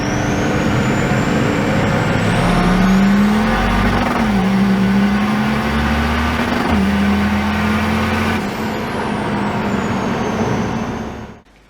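A Nissan Patrol Y60 fitted with a BMW M57 diesel and 8HP gearbox accelerates hard from second gear, its engine droning and rising steadily in pitch through gear changes, close and loud, with wheels spinning for traction.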